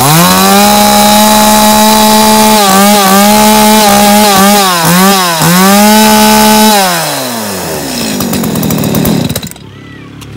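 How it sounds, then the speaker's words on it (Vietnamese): A used Japanese two-stroke leaf blower engine with a 40 mm bore runs loud and close, buzzing steadily. It revs up and down several times, then winds down and dies near the end. "bây giờ em sẽ test thử tiếng máy cho các bác này"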